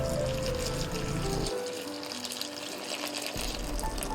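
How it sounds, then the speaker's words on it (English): Water pouring into a bowl of flour and yeast for bread batter, a steady close splashing fill lasting several seconds with no speech. "add a third of the flour, the yeast and all the water"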